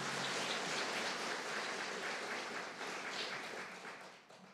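Steady, dense clapping from many hands, fairly faint and continuous, fading slightly toward the end, with no voices over it.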